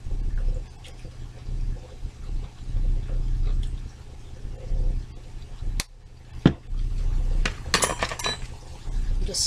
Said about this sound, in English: just stir it around